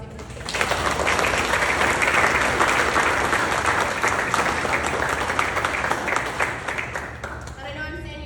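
A crowd at a cadet squadron change-of-command ceremony breaks into a sustained round of applause. The dense clapping holds steady and loud for about seven seconds, then thins out and fades at the end.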